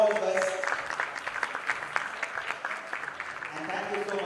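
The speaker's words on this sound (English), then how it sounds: "he deserves a big round of applause from all of us" A conference audience claps steadily in a sustained round of applause, many hands patting unevenly, with a voice talking over the start of the clapping.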